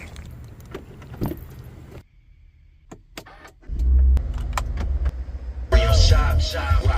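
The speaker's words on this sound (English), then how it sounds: "Time to move the cars back." Keys jangle, a car door and power window work, then a car engine starts and runs loudly nearby as the cars are moved back at a house.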